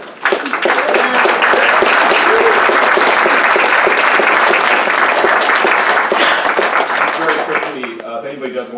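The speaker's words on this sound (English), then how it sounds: "can we get a round of applause for all of" A lecture audience at a campus men's health event breaks into a loud, dense round of applause that holds steady for several seconds, then tapers off near the end.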